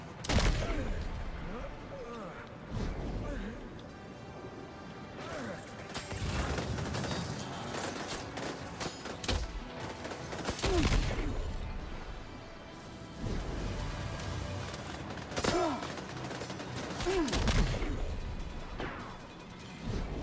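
Video game gunfire in Death Stranding 2: sustained volleys of loud, sharp shots and rattling bursts keep coming for about twenty seconds, layered with metallic mechanical clatter and crashing impacts.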